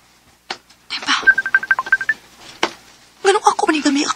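Telephone dialing tones: a quick run of about a dozen short, evenly spaced keypad beeps, close and clear, with speech before and after.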